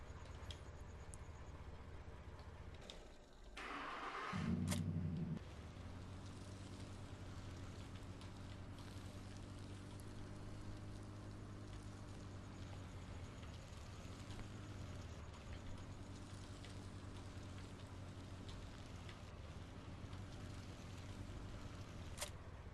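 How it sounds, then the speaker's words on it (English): A truck engine drones steadily while driving in the video game Farming Simulator 17, a low, even hum with a brief louder swell near the start, heard faintly and alone. "Let me stop my truck there."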